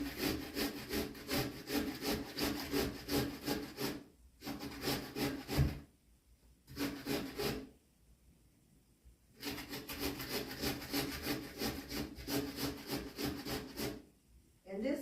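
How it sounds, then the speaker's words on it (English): An unpeeled potato scraped over the coarse side of a grater in long bursts of rapid rhythmic rasping strokes, broken by short pauses, loud and close. "you're going to grate the potato, and I use this grater that has the bigger side, and I'm not going to peel it"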